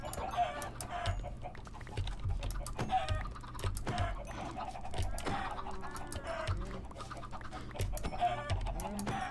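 Chickens in the Minecraft video game cluck repeatedly in short, regular bursts, fairly quiet and close, with no talking.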